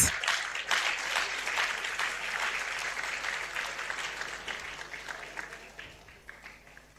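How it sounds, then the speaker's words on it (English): Sustained applause from an audience at a university awards ceremony for distance education graduates, steady and dense at first and gradually thinning toward the end, with no talk over it. "Clap for her, please."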